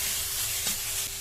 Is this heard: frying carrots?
yes